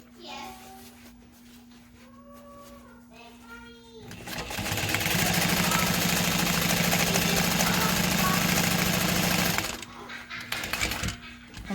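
A sewing machine runs in one loud, steady burst of rapid stitching as it bastes a backpack seam, preceded and followed by talking and light handling noises.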